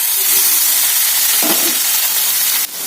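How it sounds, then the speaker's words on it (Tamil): Banana stem pieces dropped into hot oil with frying urad dal and curry leaves, giving a steady loud sizzle and hiss with a brief stirring rustle partway through and a sudden clatter near the end. "உளுந்து சந்திச்சு கருவேப்பிலை போடுறேன் வாழைத்தண்டை அதில் போட்டுடலாம்"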